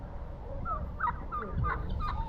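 Turkeys, two toms and three hens on a homestead farm, giving scattered gobbling and honking calls at moderate distance, a few short bursts against quiet outdoor background.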